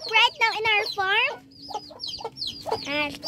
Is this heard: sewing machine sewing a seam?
no